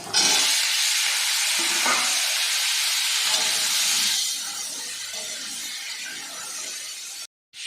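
Green chillies, pumpkin and vegetable stalks fry in a pan with a loud, steady hiss and sizzle. The sizzle eases slightly partway through and breaks off briefly near the end.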